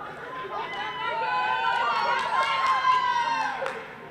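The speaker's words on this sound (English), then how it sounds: "Sounds like you got your own cheering section back there." A cheering section of many voices shouts and cheers continuously in the background at a sports event. The excited sound rises and falls over a few seconds.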